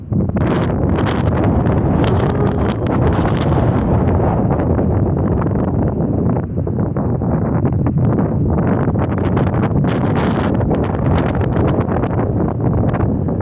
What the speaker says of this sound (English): I love feeling the wind because you can't see it.